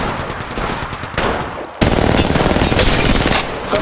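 Rapid automatic gunfire from a shooter video game, loud and continuous, with a short lull near the middle before the shooting resumes even heavier and denser.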